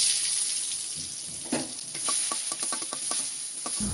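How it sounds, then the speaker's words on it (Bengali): Cut potatoes fry in oil in a pan with a steady sizzle, punctuated by soft stirring taps and clicks of a utensil against the pan. "এখন কেটে রাখা আলুগুলো ভেজে নেব।"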